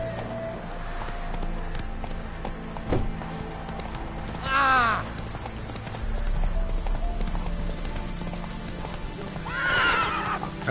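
Roach the horse gallops in The Witcher 3 with a steady clip-clop of hooves, and two clear neighs ring out, one midway and one near the end, over game ambience.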